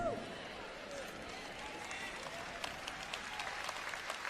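Church audience applauding during a Portuguese-language sermon, a steady wash of clapping that carries through the whole stretch at moderate level with scattered sharper claps.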